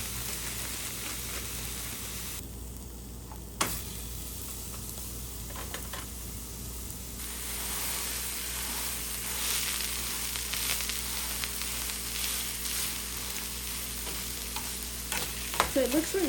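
A smashburger patty sizzles and fries in a hot pan, a steady broadband crackle with occasional sharper pops and spatula scrapes, fairly close and continuous throughout with no talking.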